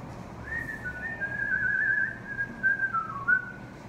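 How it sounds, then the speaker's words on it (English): Someone whistles a wavering, fairly steady melody over a soft background hum, the notes sliding up and down. "He is whistling."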